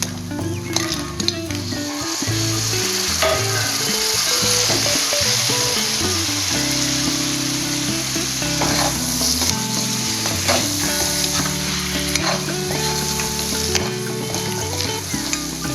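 Crab going into a frying onion and tomato masala in a pan, producing a loud, close sizzle with busy crackling and repeated stirring and scraping knocks, no one speaking.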